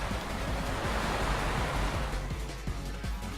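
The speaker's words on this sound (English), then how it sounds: "You got the roaring of the ocean." Roaring ocean waves and surf in the video game Super Robot Wars Z3.2, a steady loud broadband wash with low rumbling pulses throughout, no speech.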